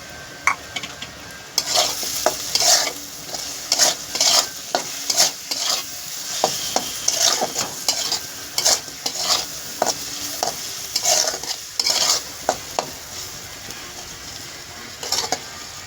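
Chopped tomato and spices frying in a pan under repeated spatula strokes, with rhythmic scraping clacks every second or so over a continuous close-up sizzle and no speech.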